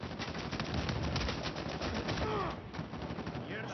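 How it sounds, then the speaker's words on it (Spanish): Automatic gunfire in the Uncharted 4 online multiplayer game, rapid rattling bursts that run almost continuously before easing off near the end. "Vaya un disparo."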